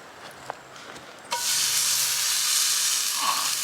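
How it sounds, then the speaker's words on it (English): A quiet moment, then a loud sizzle bursts in as steak hits a hot pan and keeps hissing steadily. "Sizzling sausage. We didn't Not even, really sausage, steak."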